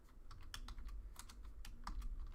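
Quick, light clatter of keys on a computer keyboard, a few seconds of irregular close taps at low volume with no talking.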